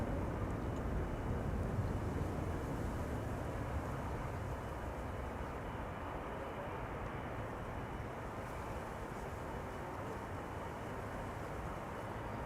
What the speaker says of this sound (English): That is Singapore Airlines, the A350, going to Singapore, taking off from the wrong runway, unfortunately.